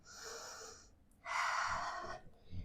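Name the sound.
breathing during a workout hold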